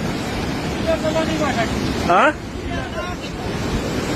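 Floodwater of the Kankai river in Jhapa rushes in a steady, roaring wash with wind buffeting the microphone, and a voice calls out briefly partway through.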